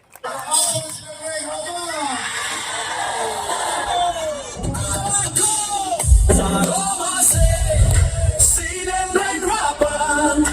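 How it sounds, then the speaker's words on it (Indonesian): A large audience at a closing ceremony of a teachers' sports and arts event cheers, whoops and claps, a loud sustained crowd roar with shouts rising over it, while voices carry through. "kita berikan aplaus yang meriah"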